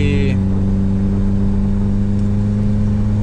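A 1988 VW Gol GTS engine drones hard and steadily as the car climbs a mountain road at night, its mid-pitched revving loud and close throughout.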